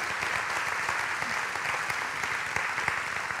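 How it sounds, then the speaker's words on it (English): A church congregation gives a sustained round of applause, dense steady clapping filling the room at an even level throughout, with no voices standing out above it. "Can we give Jen and Caleb and Tammy a big round of applause?"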